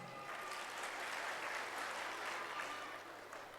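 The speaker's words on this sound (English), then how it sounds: "5 claps." An audience at a preschool annual day celebration claps together. The clapping is faint and distant and runs as a continuous patter for a few seconds.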